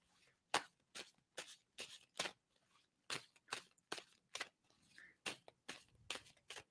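Tarot cards being shuffled in about a dozen quick, crisp bursts with short pauses between them, close and fairly quiet, with no talking.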